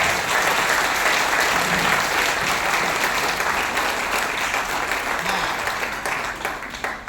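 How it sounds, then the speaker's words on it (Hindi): A lecture audience breaks into sustained, dense clapping that fills the whole stretch at steady volume, then thins slightly near the end, after a motivational talk on happiness. "अगर लेक्चर अच्छा लगा तो मुझे खुशी दो, तालियां बजाओ।"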